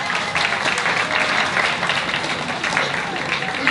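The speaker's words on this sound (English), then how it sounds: "How about another round of applause for Dennis Walcott?" A crowd at a library's 20th anniversary celebration in Flushing, Queens gives a round of applause, steady dense clapping throughout with a voice briefly audible under it.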